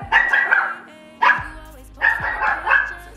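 Dogs bark at close range in three loud bursts, the first a quick run of barks, then a single bark and a final longer volley, with short quiet gaps between them.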